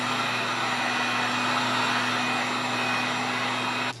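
A heat gun warms carbon fiber vinyl wrap on a car's interior trim. It gives a steady, close blowing whir with a constant hum and cuts off abruptly at the end.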